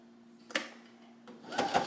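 A sewing machine stitches a seam on a sublimated photo blanket, including backstitching, heard as short, close bursts of rapid mechanical clatter with a faint hum between them.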